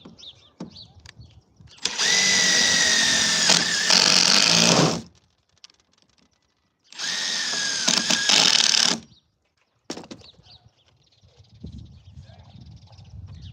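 A power drill drives screws into a van's roof deck in two bursts of about three seconds each, whirring up and binding near the end, with quiet handling noises between and after.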